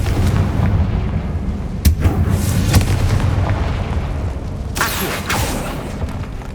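Confringo fire spell blasts in the video game Hogwarts Legacy, heard as two loud, sharp explosive bursts a few seconds apart over a constant rumbling low drone, with no talking.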